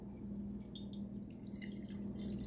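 Warm water runs from a tap into a bowl for a lavender and lemon soak, a soft steady trickle and splash heard close up and fairly quiet, with no talking.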